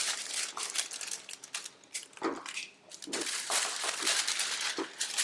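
Paper sewing pattern piece for the Juliette top being handled and folded, giving close, loud crinkling and rustling in bursts with short pauses, no talk.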